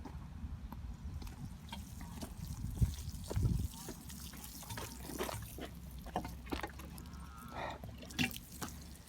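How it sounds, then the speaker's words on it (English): Garden plants for green beans being watered, soft trickling and dripping water splashes with intermittent bursts, faint and close, under occasional background voices. "All right, now Jaden's turn. Water them up."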